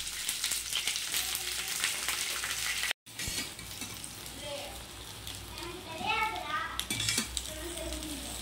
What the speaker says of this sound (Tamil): வெங்காயத்தையும் குடமிளகாயையும் அதில் போட்டு நம்ம வந்து கொஞ்சம் ஒரு 5 minutes வந்து வறுத்த மாதிரி எடுத்துக்கணும்